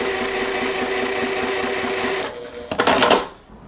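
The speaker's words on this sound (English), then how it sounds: "So you're just sewing from one corner to the other corner." A sewing machine stitches small quilt pieces from corner to corner for a flower block, a steady mechanical whir running close and even for a couple of seconds before breaking into a brief louder rattle and stopping.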